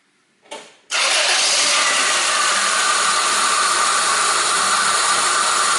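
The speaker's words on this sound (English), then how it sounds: "I need to start this engine" A brief starter crank, then an engine catches and settles into a loud, steady idle that runs on without change.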